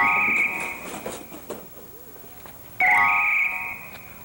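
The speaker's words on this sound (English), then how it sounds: "There's the bell." A bus bell rings in two bright electronic bursts, one at the start and a louder one near the end, with a quieter stretch between.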